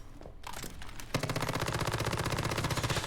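Rapid sustained bursts of MP7 submachine gun fire in Once Human, a steady fast rattle of closely spaced shots after a few scattered earlier ones, loud and close.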